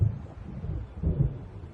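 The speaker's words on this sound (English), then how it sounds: "It seems there's a storm coming." A low thunder rumble from an approaching storm in Alan Wake Remastered swells and fades across a short stretch, deep and distant, with no voices.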